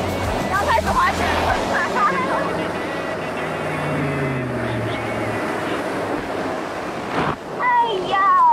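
Ocean waves and surf roll and wash continuously during a surfing date at the beach, with wind buffeting the microphone and people talking and exclaiming over the water.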